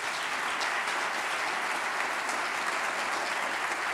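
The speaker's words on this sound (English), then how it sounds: "You guys, a big round of applause for all of the staff here at the museum." Sustained audience applause for museum staff at a waterfront conference, dense steady clapping from a large crowd that fills the whole stretch at an even level with no voices on top.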